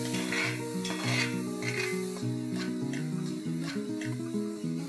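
Two grated medium tomatoes sautéing in oil with spice: a steady soft sizzle with repeated scraping and stirring of a spoon against the pan, close and continuous, with no talk.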